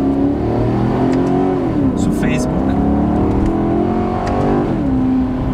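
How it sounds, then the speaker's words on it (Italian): A Maserati car engine pulls hard through rising and falling gear sweeps in a loud, continuous roar, with an Italian voice talking over it throughout. "voglio lasciarvi con un'ultima piccola accelerata"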